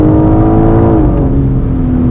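A BMW M4 Competition xDrive (G82) accelerating hard: a loud, close engine roar holds a steady high note, then drops in pitch as it shifts gear and pulls on, with no talk.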